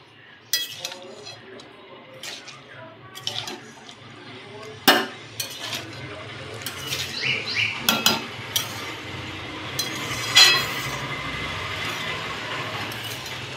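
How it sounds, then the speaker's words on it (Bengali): Shredded cabbage frying with vegetables in a pan, with a steady low sizzle and irregular scraping and clinking strokes as a utensil stirs it, several sharper clacks against the metal along the way. "এবার কপিটাকে দিয়ে নিয়েছি, কপিটাকেও ভেজে নেব"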